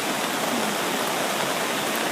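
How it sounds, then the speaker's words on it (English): Flash flood water in Boulder rushing beneath a bridge after hours of heavy rain, a dense, loud, unbroken roar of turbulent water filling the whole clip with no voices. "you can see how much wider the water flow is"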